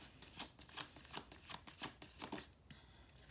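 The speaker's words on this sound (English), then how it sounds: "I shuffled this deck so much" A deck of tarot cards is shuffled close up in a series of quick, crisp riffling bursts, repeated rhythmically with short pauses and no talk.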